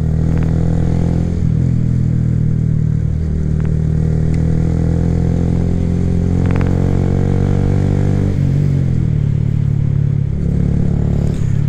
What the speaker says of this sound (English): I love how I can just do the throttle like this.